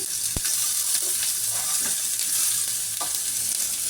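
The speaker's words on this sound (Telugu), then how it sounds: "ఎగ్స్ ఇలా ఫ్రై అయిపోయాక పక్కకు తీసేస్తాము." Eggs fry in a wide pan for a Mughal egg curry, giving a steady close hiss of sizzling oil with a few sharp utensil taps and scrapes over the top, no voices.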